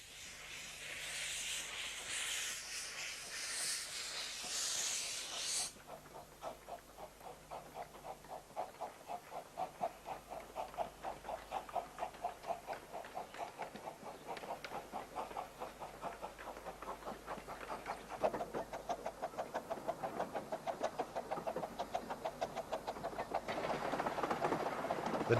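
A miniature steam train on the Romney Hythe Dymchurch Railway hisses with steam, then runs on with a fast, steady clickety-clack of wheels on rail joints that builds to a close pass.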